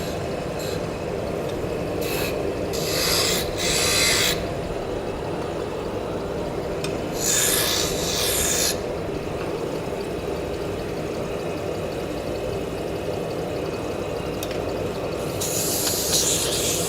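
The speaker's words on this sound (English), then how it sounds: "Burnishing." A wooden drop spindle is burnished while turning on a lathe: a steady low whirring drone with bursts of hissing friction rub that come and go, no talk.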